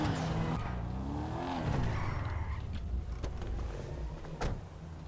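Invetero Coquette D1 classic car in GTA Online, its engine droning steadily and closely with rising and falling pitch as it accelerates, plus a few sharp clicks and tire noises, no talking.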